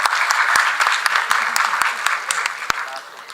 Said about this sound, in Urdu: ایک بار تالیوں کی گونج اور ہونی چاہیے۔